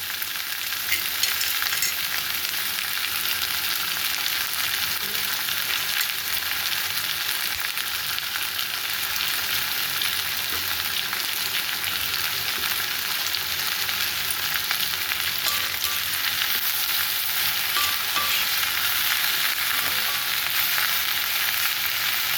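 Cut okra fries with sautéed onions in a pan, a loud, continuous close-up sizzle with occasional stirring scrapes, no voices.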